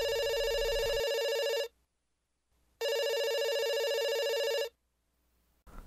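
A telephone rings in two long electronic bursts separated by a silent pause, loud and close, with no voices.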